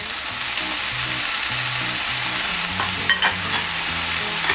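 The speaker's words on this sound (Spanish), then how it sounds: "Después que cocinamos la cebolla de verdeo unos 2 o 3 minutitos, volvemos a poner las pechugas." Chicken breasts with green onions frying in a pan, a loud steady crackling sizzle that runs throughout, with a few brief stirring sounds near the end and no talking.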